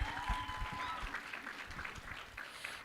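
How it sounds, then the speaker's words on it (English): Conference audience applauding at moderate level, a steady patter of clapping that fills the whole stretch with some voices mixed in. "Give yourselves a round of applause for that."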